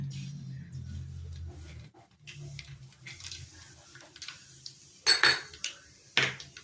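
Mustard seeds and cumin dropped into hot oil in a pan, with loud metallic clinks and scrapes of utensils against cookware and a few sharp clatters near the end; no talking.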